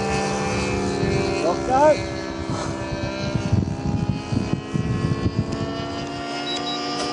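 A 70mm EDF Super Sabre custom delta-wing RC model jet comes in to land, its steady high ducted-fan whine droning throughout at moderate distance, with people talking nearby and short bursts of outdoor wind and handling noise.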